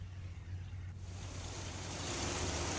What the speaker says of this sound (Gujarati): તો ધોધમાર વરસાદ વરસી રહ્યો છે।